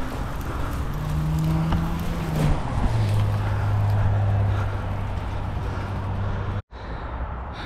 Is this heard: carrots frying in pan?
no